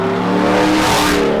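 Chevrolet Silverado Trail Boss pickup exhaust fitted with Kooks cats and a Y-pipe, a loud, steady throaty rumble held close up, swelling slightly midway with no talk over it.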